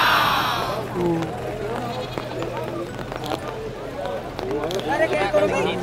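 Goats bleat repeatedly in the goat pens of a livestock stockyard during the rainy season, their wavering calls rising over a constant murmur of people talking nearby.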